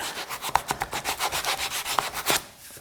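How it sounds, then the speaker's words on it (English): Coarse 80 grit sandpaper rubbed by hand over a shop-built wooden patio cover truss, with steady back-and-forth strokes in a quick, even rhythm, close and moderately loud, no talk. "I can take this 80 grit sandpaper, smooth that out"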